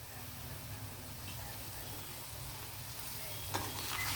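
Egg and vegetables fry in a covered pan, a faint steady sizzle with soft crackling, low and continuous with a slight rise near the end.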